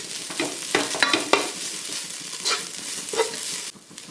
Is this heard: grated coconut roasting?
yes